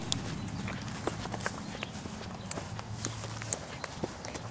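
A quarter horse mare walks on a farm, her hooves clip-clopping faintly and irregularly beneath a steady outdoor background hiss.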